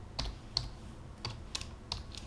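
Typing on a computer keyboard: five or six separate, crisp key taps close by, spaced unevenly over a couple of seconds, with a soft hum underneath.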